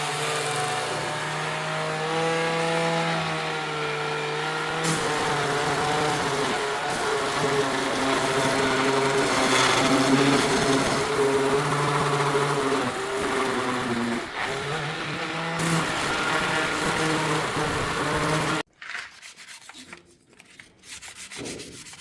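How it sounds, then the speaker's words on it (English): Hand sanding of a car headlight lens during a front-end headlight conversion in an open garage, a steady close scraping rub that runs continuously for most of the clip before cutting off near the end, with no talking. "After a lot of sanding"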